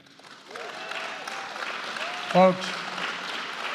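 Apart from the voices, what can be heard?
crowd cheering and applauding at a Biden event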